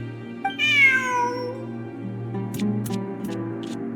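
A cat meows once, clear and close, with a rising then falling tone, in the video game Genshin Impact, over a steady low background hum with a few faint clicks afterward.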